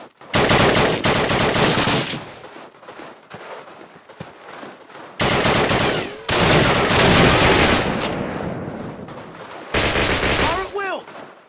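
Machine gun fire in the Call of Duty PC game, loud sustained automatic bursts repeating in several long volleys with short gaps, close and dominant.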